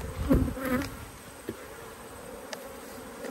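Italian honey bees buzz at an open hive, a close, steady insect drone with a louder pass of individual bees near the start and brief bumps and taps, no speech.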